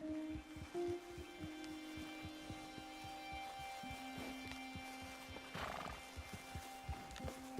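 Horses trot in the Red Dead Redemption 2 video game, with rhythmic hoof clip-clops, a steady droning hum and a brief snort or whinny, all moderately faint.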